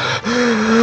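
Lord Jabu Jabu, the giant fish deity from Zelda: Ocarina of Time, breathing at the fountain: a loud close hollow inhale with a low sustained tone underneath.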